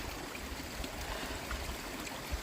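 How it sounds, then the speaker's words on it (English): A small stream on the Appalachian Trail trickles and babbles steadily, a continuous watery rush with no voices. "Nice little stream."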